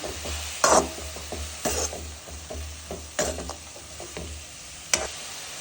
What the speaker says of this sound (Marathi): आपण तेला आणि मिठामध्ये कोबी परतून घेऊ